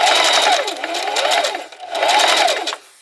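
Singer Heavy Duty sewing machine stitching slowly over a pin in two short, rapid bursts of mechanical whirring and clatter that stop abruptly at the end.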